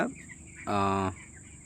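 A sick chick, too weak to stand, lets out one strained, moaning cry of about half a second, close to the microphone over a quiet background.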